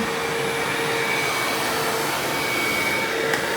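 Hoover WindTunnel self-propelled bagged or bagless vacuum cleaner running in its upright position, a steady loud motor whine and airflow roar with a faint high tone, close and unbroken, without talk.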